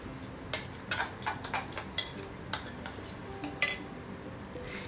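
Mung dal paste is stirred into sour yogurt with a utensil, making a run of light, irregular taps and scrapes against the bowl, fairly close and quiet.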